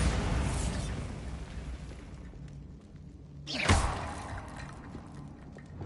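A Bombarda spell explosion in Hogwarts Legacy: a single sharp, loud blast bursts out after a fading rumble of earlier debris, then quickly trails off into quiet ambience.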